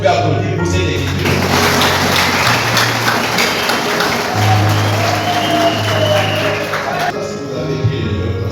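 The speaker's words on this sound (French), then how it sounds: "On peut applaudir pour cette écriture." An audience at a religious gathering applauds in a sustained, even wash of clapping over a steady low hum, the clapping continuing nearly unbroken before easing off at the end.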